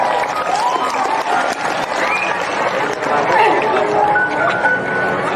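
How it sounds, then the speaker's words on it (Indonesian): Lively applause from a school crowd at a Language Month readathon event, loud and sustained, with children chattering and a voice talking over the clapping. "Tepuk tangan dulu yang meriah"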